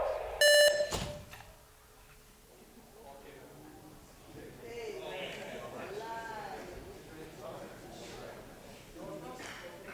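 A single sharp electronic beep sounds near the start, ending a countdown, followed by quieter voices talking in the background.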